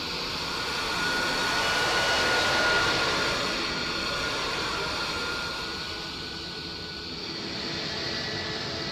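A Boeing 727 airliner lands in the Roblox PTFS flight game during an airbase airshow, its engine noise a steady broadband roar that swells slightly and then holds, with no talk over it.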